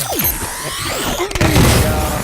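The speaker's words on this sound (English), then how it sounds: "We even got fireworks at the end of court." Fireworks burst at the end of a celebratory court hearing, a rapid string of booms, pops and crackles with whistling streaks, loud and close, growing denser toward the end.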